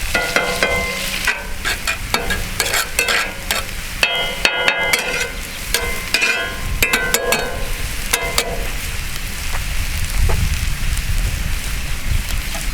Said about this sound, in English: we're getting our butter all in the pan. Garlic popping a little bit. That's good, nice and hot.